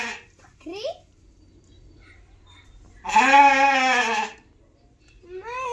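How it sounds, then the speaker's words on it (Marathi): A goat gives a long, wavering bleat nearby, with shorter bleats before and after it, separated by near silence. "बकरी आहे"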